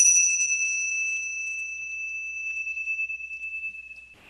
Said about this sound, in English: So here's the sound of the bell again.